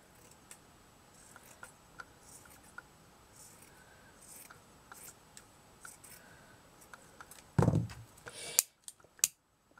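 Scissors cut a piece for a miniature shabby chic gown in a few quiet snips, then a louder, close rustle and clack near the end, with no voices.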